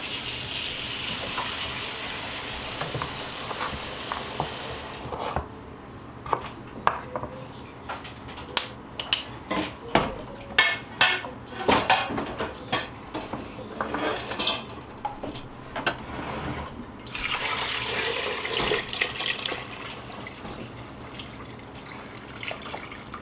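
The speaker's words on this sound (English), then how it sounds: "I'm putting in more water than what I will have in the end." Water is poured into a Cosori multi-cooker, a faint, steady splashing stream at the start and again near the end, with scattered clicks and knocks of handling in between.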